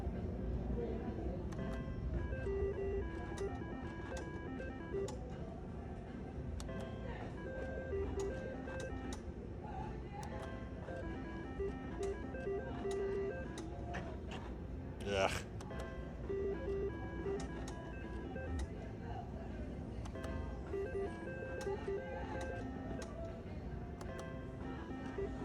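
A casino slot machine runs through 2-credit, $10 spins, playing bright electronic chimes and melodic jingles over a steady mechanical hum, with a louder flourish midway and faint background chatter.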